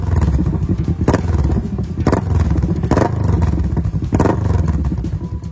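Kawasaki Vulcan S 650 cruiser motorcycle with a liquid-cooled DOHC eight-valve engine revving close by, a loud throaty roar broken by a few sharp, regularly spaced bursts.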